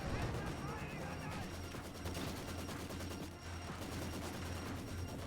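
Gunfire and mortar-style booms from a strategy war game, rapid bursts of shots layered with a steady low rumble, moderately loud, with commentators talking over the action.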